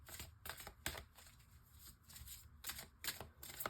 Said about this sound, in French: je prends une carte des anges de l'amour